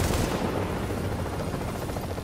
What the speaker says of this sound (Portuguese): tem um cara atirando lá de cima